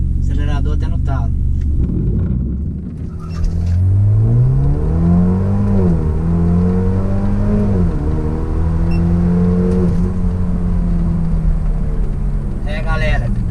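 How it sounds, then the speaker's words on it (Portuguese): BMW 320 GT in Sport Plus mode launching at full throttle for a 0–100 km/h run, engine rumbling low then climbing loudly through rising revs with gear-shift dips, close and continuous. "Esporte mais, câmbio no S, pé esquerdo no freio, acelerador até no talo."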